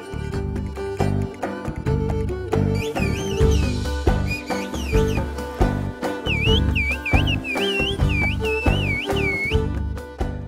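A Black Sea whistled language, the traditional whistled speech of the Turkish region between Gümüşhane and Trabzon, rises and falls in modulated whistled phrases over a prominent rhythmic musical backing with drums.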